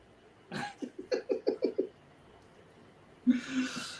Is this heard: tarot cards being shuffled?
no